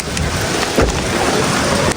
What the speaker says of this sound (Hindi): यार ये तो बड़ी स्पीड वाली बारिश है, 1 सेकंड भी रुकने नहीं दिया इसने हमें। इतनी तेज बारिश।